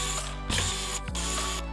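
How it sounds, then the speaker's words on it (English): Screwdriver backing out a screw from the bottom of a plastic Fisher-Price Crawl 'n Colors Chameleon toy: a couple of close ratcheting clicks and a soft grinding turn, heard alone. "we need to remove the 4 screws that are on the bottom part of the toy"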